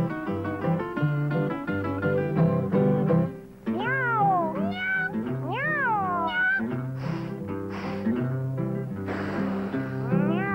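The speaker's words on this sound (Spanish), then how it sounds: "Se oye el maullido del triste gato viudo" A cat meows repeatedly in long, wailing, rising-and-falling cries over a background of music, heard in a Mexican film scene with no speech in between.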